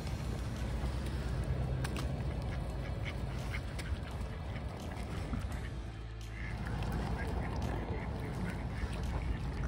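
Ducks quack repeatedly at close range while being hand-fed beside swans in Bergen, with a steady rushing water-and-wind background and a voice talking softly now and then.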